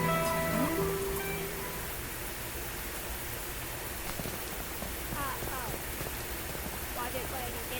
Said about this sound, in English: It's blue sky, it's raining, it's blue sky.